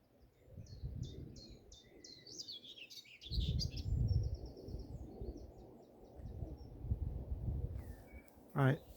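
Small birds chirp and tweet in short bursts over quiet Cotswolds countryside fields, the calls light and scattered above a low rumble of wind and movement, with one louder close call near the end.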